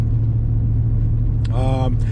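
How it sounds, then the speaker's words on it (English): A steady low engine rumble from a truck with a faulty exhaust runs throughout, rough and droning, with a brief burst of harmonic whine near the end. "The noise you hear is, yeah, that's because my exhaust is kind of off."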